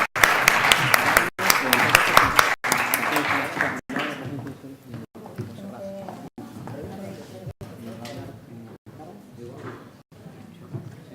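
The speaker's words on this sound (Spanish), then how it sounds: "les damos un fuerte aplauso al workshop de responsabilidad" Audience applause at a workshop session on intermediary liability during an Internet Day conference, loud and dense for about four seconds, then thinning into scattered claps with a few voices talking underneath.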